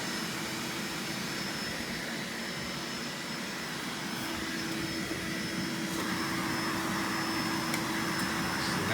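Electrolux Epic 3500 SR upright vacuum cleaner running with extension wands attached, a steady loud whirring roar with a high motor whine that holds throughout, no talk.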